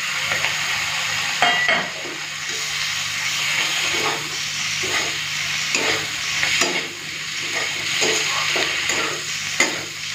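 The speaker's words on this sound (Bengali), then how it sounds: "মশলাটা হালকা একটুখানি ভেজে নিই।" Freshly ground spice paste frying in a pan with boiled potatoes for a Bengali fish curry; a steady, close hiss and sizzle continues throughout, broken by repeated scraping strokes of a spatula.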